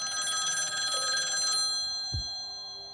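A telephone bell rings in steady repeated bursts for about a second and a half, then stops, followed by a brief low thump and quiet room tone.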